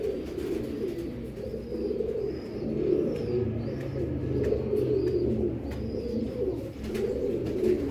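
Pigeons coo repeatedly nearby, soft low throaty calls rolling one after another with faint chirps above.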